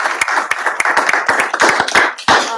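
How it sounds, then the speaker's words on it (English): A small scattered round of applause at a school board meeting, a handful of distinct, close, uneven hand claps rather than a dense roar, brief and fairly loud. "a round of applause."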